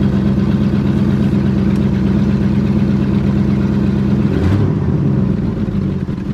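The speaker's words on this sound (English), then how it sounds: "there we go. Now it's kind of idling." A Ford LTD car engine idles steadily up close with a low, rumbling drone that stays continuous throughout, and no talking is heard.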